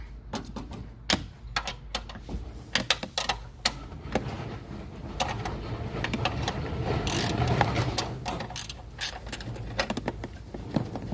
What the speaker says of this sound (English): I got this 14mm wrench right here